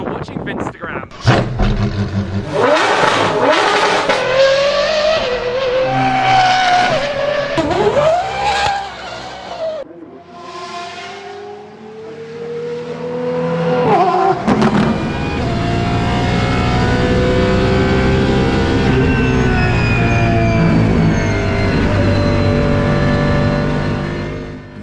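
A De Tomaso hypercar prototype's 6.2-litre V12 revs hard in sharp rising and falling bursts, then settles into a sustained loud howl, with people talking between the revs.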